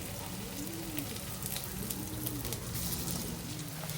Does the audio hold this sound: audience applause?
no